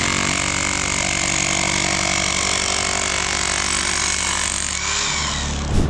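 A big jackhammer pounds rock at an amethyst geode quarry face, a loud, steady, rapid hammering drone that holds for several seconds and then cuts off, with no talking.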